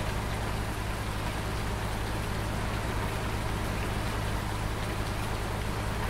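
Constant, dense patter of rain falling in Farming Simulator 19, a steady even hiss with a low engine hum underneath and no speech.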